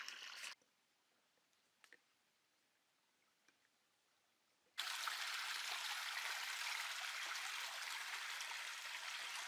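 A small waterfall trickles into a pool in the D'Aguilar bush, Australia; after near silence with a few faint clicks, a steady soft splashing wash begins and holds to the end.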